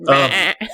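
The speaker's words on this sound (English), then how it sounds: "what you were hearing was perhaps thousands of goats" A goat gives one long, loud, wavering bleat close by, then a shorter second cry right after.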